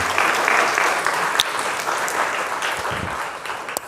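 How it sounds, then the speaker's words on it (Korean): Church congregation at a Friday night service applauding to welcome a visiting pastor and his wife, a steady wash of clapping throughout that slowly tapers, with a couple of sharp louder claps standing out. "한번 박수로 환영하겠습니다"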